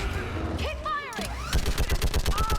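Rapid bursts of gunfire in the video game Mass Effect 3, a dense run of loud shots in the second half following electronic swooping effects and a voice shouting battle commands.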